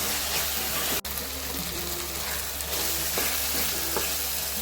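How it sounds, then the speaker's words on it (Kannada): Masala sizzles and fries in a pan, a steady close hiss of hot oil with brief scraping stirs of a spoon and a sharp tap near the start, no voices. "ಚೆನ್ನಾಗಿ ಬಾಡಿಸಿ"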